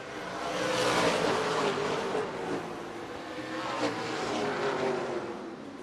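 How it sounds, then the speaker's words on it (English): Race cars roar around Redwood Acres Raceway during the Rhododendron 100, a loud, sustained engine drone that swells and fades as cars pass, with no talk over it. "Sometimes it's just good to let the cars do the talking."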